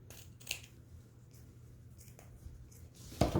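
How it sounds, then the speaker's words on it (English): Scissors cutting a length of ribbon for a bow, a few quiet close snips and rustles of fabric ending in a sharper cut, no talking. "All right, so I'm gonna go ahead and cut the length."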